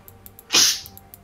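A single sharp sneeze bursts out close to the microphone during a League of Legends gaming session, brief and loud over a quiet background.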